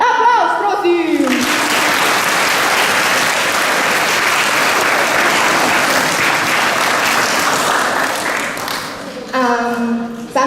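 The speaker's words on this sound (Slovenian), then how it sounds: "Aplavz, prosim!" An audience at a school welcome event for first-graders claps in a loud, sustained burst of applause lasting several seconds, framed by a voice speaking at the start and again near the end.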